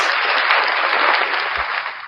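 A crowd applauds at a barbecue championship awards event, a dense, steady burst of clapping lasting about two seconds before cutting off abruptly.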